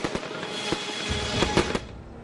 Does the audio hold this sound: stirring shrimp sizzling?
no